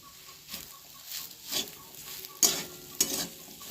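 Fried spice mix is stirred into potatoes in a pan, a few separate scraping strokes over a faint sizzle, close and quiet with short pauses between them.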